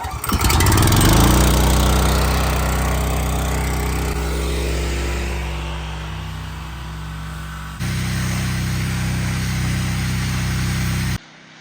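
A gas pressure washer engine starts with a rising pull, then settles into a loud, steady small-engine drone close by, shifting pitch partway through before cutting off abruptly.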